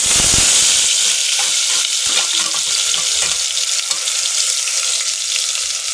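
Onion and garlic paste hits hot coconut oil with mustard seeds, giving a loud, steady sizzle and spatter with faint stirring scrapes throughout, no talk.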